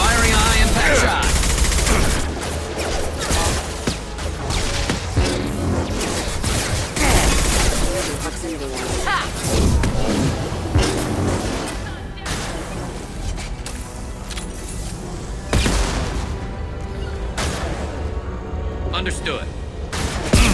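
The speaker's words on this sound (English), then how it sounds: "Firing a high impact shot." Heavy gunfire in the sci-fi shooter Mass Effect 2, with loud, dense bursts of high-impact shots and crashing blasts that keep going almost nonstop through a chaotic firefight.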